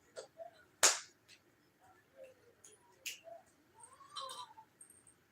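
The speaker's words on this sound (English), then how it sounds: "What you doing, Kitty?" A cat gives a few faint, short meows indoors, scattered through the stretch and mixed with sharp clicks and light household noise.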